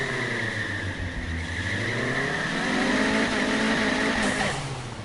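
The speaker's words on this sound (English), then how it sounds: "I punch on the throttle a little bit, and I slam the brake, and I burn out the tires to get some heat and friction in them" A car sits on the line doing a burnout, throttle punched and brakes held while the engine revs hard and the spinning tires squeal steadily throughout, close and loud with no talking.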